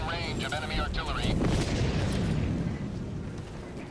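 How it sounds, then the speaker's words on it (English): Enemy artillery in the video game Helldivers thunders in a sustained, loud rumbling barrage, while voices and a tonal in-game warning sound over the opening. "Warning, you are in range of enemy artillery."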